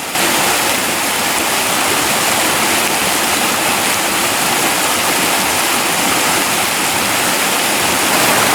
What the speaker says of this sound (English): You can see how the water comes down over